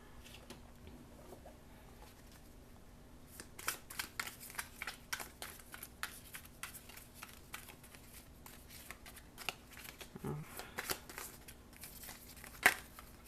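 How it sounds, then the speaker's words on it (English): Oracle cards being shuffled during a tarot-style reading, a quiet run of soft riffling snaps and paper flutters that starts after a few seconds and continues in uneven bursts, close and fairly faint, with no talking. "Okay, one more shuffle."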